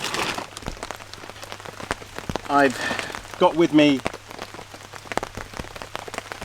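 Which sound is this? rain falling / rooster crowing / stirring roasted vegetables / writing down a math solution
rain falling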